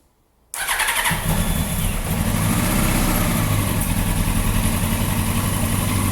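A 1998 Yamaha R1 motorcycle engine cranks and catches after a brief silence, then runs continuously at a loud, steady idle with a rough, throaty rumble until the end.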